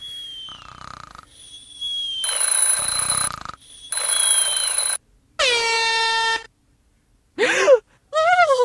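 Air horn prank sounds from the Prankster 3D game arrive as loud bursts with sudden starts and stops, mixed with sweeping cartoon-like tones and short silent gaps.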